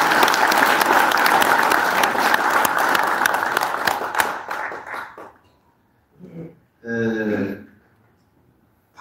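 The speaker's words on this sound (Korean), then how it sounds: "박수를 부탁드립니다." Loud, full crowd applause at a senior citizens' association chairman inauguration ceremony, dense clapping that thins and fades after about five seconds, followed by brief amplified speech from a nearby voice.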